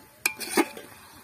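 Tomato paste sautéed and stirred in a pan while making a village-style nethili anchovy fish curry: a few brief, close scraping and clinking stirs, one sharp knock and then softer strokes, with no talking.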